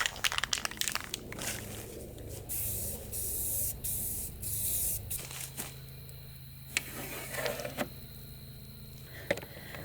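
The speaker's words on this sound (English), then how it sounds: "Now for some black paint. I'm just using Rust-Oleum black paint, just some gloss paint." Rust-Oleum black gloss spray paint hissing from an aerosol can in several short bursts and longer sprays, close and fairly loud, with the rattle of the can and light crinkling between passes.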